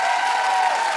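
A studio audience claps together in a brief, dense burst of steady applause heard up close.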